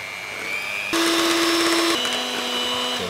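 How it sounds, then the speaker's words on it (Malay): An electric mixer whirs steadily through margarine, icing sugar and vanilla essence, its motor pitch stepping up to a louder speed then dropping twice, close and continuous with no talk. "Lepas tu kita beat dia sampai dia kembang."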